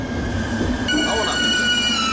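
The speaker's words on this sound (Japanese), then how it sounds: "青い電車、" A blue train passes close by in Beppu, a loud rumbling roll of rail wheels that rises into a high metallic squeal partway through, with a faint voice underneath.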